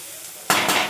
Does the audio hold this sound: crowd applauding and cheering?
no